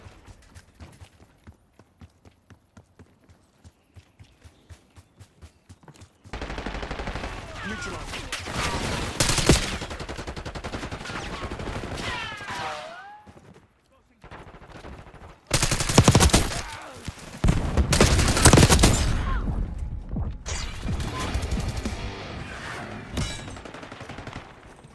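Gunfire in Call of Duty: Black Ops 6 multiplayer: a run of rapid light shots, then loud sustained automatic bursts and heavy fusillades with short pauses.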